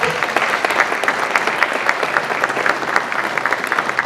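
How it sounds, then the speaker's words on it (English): An audience claps for an award winner at a graduation ceremony for a cloud security training programme. The applause is loud, dense and continuous, with fast overlapping claps throughout. "We clap for him"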